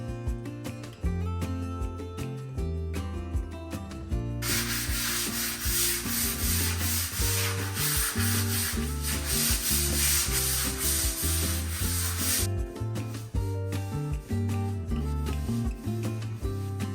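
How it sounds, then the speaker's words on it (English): Hand sanding over filled nail holes on a wooden door, a continuous loud scratchy rub for several seconds, mixed with background music. "lightly sanding all of the nail holes I had filled on the door"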